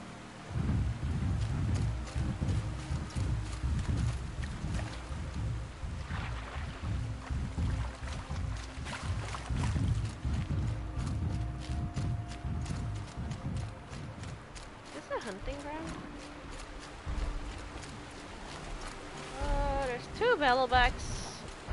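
Horse hooves clip-clopping in the Horizon Zero Dawn video game, a steady run of low thudding footfalls under rumbling game ambience, with a few brief electronic effects near the end.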